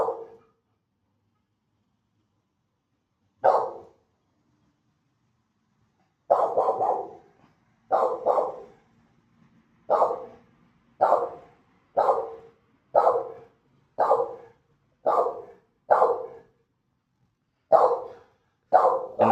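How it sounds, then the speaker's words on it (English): Repeated loud dog barks at a park, about a dozen evenly spaced single woofs, close and clear against near silence. "Who the hell you barking at, dude?"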